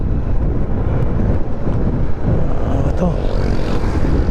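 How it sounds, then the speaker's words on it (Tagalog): Strong wind buffets the microphone with heavy low rumbling gusts, blending with the steady drone of a moving vehicle on a ride into Tarlac province, Philippines, with no voices. "At napakalakas kasi ng hangin ngayon."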